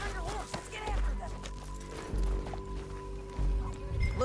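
Horse hoofbeats galloping in Red Dead Redemption 2, a steady rolling clip-clop with low thuds in rhythmic bursts, heard under game music and ambient noise with people talking over it.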